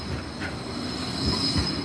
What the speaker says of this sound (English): Yeah, the G-Link tram, that's the one.